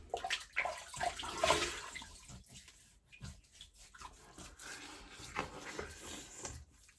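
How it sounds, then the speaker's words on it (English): Water splashes and sloshes in uneven bursts nearby as a face is wetted before shaving, with running-tap wash in the background and no talking. "Get a bit of water on there."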